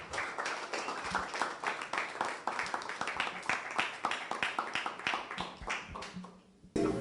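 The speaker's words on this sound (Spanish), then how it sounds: "Te damos la bienvenida con un aplauso desde acá" Audience in an auditorium at an academic humanities congress gives a round of applause, steady close clapping from a modest crowd that fades out after about six seconds.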